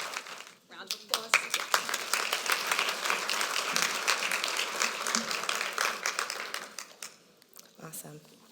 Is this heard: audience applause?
yes